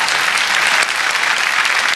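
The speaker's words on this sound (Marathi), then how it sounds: "प्राजक्तासाठी एकदा जोरदार टाळ्या झाल्या पाहिजेत." A stage audience claps loudly for a lavani performer, producing a dense, steady burst of applause that fills the whole moment without letting up.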